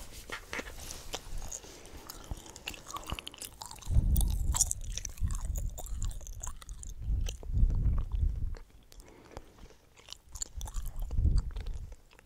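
Close, wet chewing and crunchy biting of a hard, sweet Halloween treat in a quiet room at home, coming in several bursts of munching with pauses between them.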